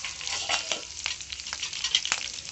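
Green chilies and dried red chilies hit hot oil with cumin and asafoetida, crackling in a steady bright sizzle punctuated by small pops and stirring sounds; no one speaks.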